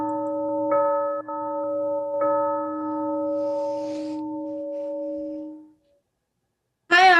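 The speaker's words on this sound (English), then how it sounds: "The bell rings." A school bell sounds during a stage play: a steady, sustained electronic tone rings for about five seconds, then cuts off, followed by brief silence and a burst of another sound at the end.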